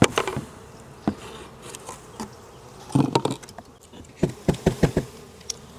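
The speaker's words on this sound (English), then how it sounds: "gently tap the bees down to the bottom of the package again" Honey bees buzz in a low, restless hum inside their shipping package, punctuated by a series of soft taps and knocks on the package.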